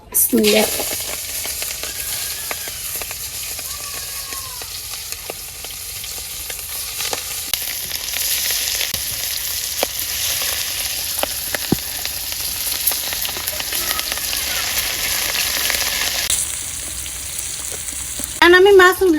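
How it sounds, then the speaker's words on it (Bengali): Hilsa fish pieces coated in salt, turmeric and chilli powder fry in oil in a wok, giving a strong, steady sizzle with occasional crackles and a sharp burst near the end. "মাছ ভাজার জন্য কড়াইতে তেল দিয়ে দিলাম"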